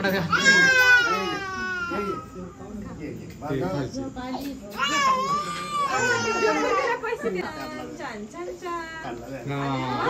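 A small child wails and sobs loudly and almost continuously through the scene, with rising, strained cries at a family birthday cake-cutting, while adults and other children talk and call out over the noise.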